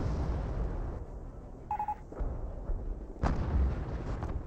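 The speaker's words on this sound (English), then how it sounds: "I do have an artillery barrage raiding on in" Artillery barrage in the Company of Heroes real-time strategy game, with a few booming shell impacts and blasts spaced across a short stretch, alongside a brief electronic beeping tone, no voices.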